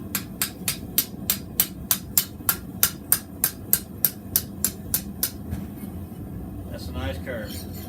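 A hammer strikes the steel spine of a forged chef's knife in a steady run of about twenty sharp, ringing blows, then stops, close and clear.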